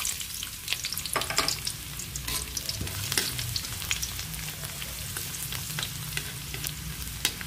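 Garlic fries in hot olive oil in a pan, giving a close, steady sizzle broken by scraping and clinking as it is stirred, with no talking.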